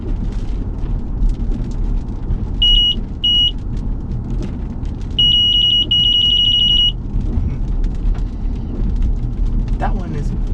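Uniden R7 Spectre radar detector sounding an alert inside a moving car: two short bursts of high electronic beeps, then a longer, faster run of beeps, over steady road rumble.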